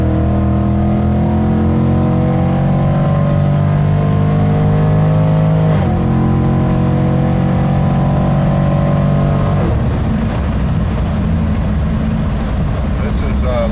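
Chevrolet C10 pickup swapped with an L83 5.3 liter V8 and eight-speed transmission, ECM tuned as a 2016 Silverado, accelerating hard while passing; loud steady engine drone rises through the gears with a shift, heard from inside the cab under talk.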